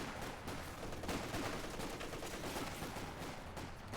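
Gunfire in the video game Company of Heroes 2, a faint, dense and continuous crackle of distant shots, with no speech heard.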